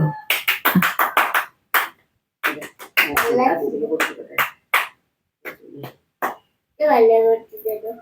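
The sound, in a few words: hand clapping at a birthday celebration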